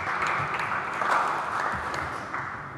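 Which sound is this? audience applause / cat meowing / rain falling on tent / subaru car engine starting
audience applause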